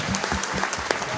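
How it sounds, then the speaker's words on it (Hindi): An audience in a Hindi-language coaching class gives loud, steady applause, a dense crowd of hand claps lasting the whole moment, with a voice faintly audible underneath. "एक बार जोरदार ताली बजा दीजिए।"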